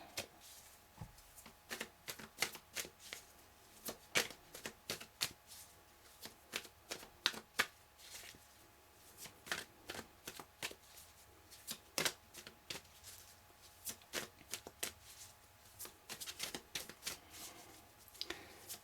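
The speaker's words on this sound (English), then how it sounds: "I'm just going to pull one more card." Tarot cards shuffled by hand, a steady run of crisp riffling snaps and soft slides that repeat in irregular bursts, close but fairly quiet, with no talking.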